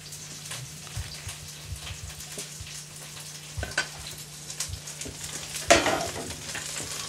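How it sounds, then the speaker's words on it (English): Sautéed mushrooms sizzling quietly in a pan, a soft, steady crackle broken by a few faint clicks and scrapes of stirring. "So we're going to take these sauteed mushrooms, put them in here, let them cook down a little bit."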